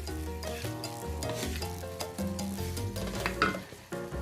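Seasoned shrimps and scallops sizzle over medium-high heat in a pan while being stirred, a close, continuous crackling fry with the scrape and shuffle of stirring and no talk.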